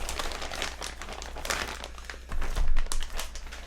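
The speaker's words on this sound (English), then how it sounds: "open plastic bag 1" Crinkly plastic bag from an Axial SCX10 II RC crawler kit being pulled open and handled, a steady close rustle and crumple that swells louder near the end, with no voices.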